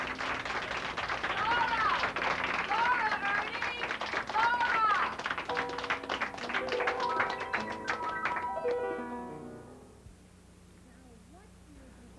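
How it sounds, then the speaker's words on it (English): Cheers and applause for a stage performance swell into a dense wash of clapping with scattered whoops, stays loud for several seconds, then thins into a few claps and fades out near the end. "As the cheers and applause for Ernie's performance resound"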